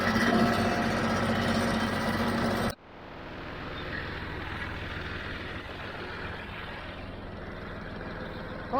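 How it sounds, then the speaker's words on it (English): A John Deere 348 baler pulled by a John Deere 5055D tractor bales second-cut hay in a field. A loud, steady engine-and-machinery drone cuts off sharply, then a quieter, more distant mechanical rumble with faint rhythmic clatter continues, no voices. "The John Deere baler is just making a splendid bale"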